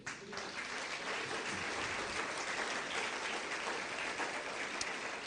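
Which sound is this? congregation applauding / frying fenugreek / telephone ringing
congregation applauding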